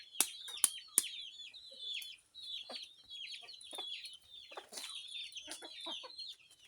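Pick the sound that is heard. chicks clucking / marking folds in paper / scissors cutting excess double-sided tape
chicks clucking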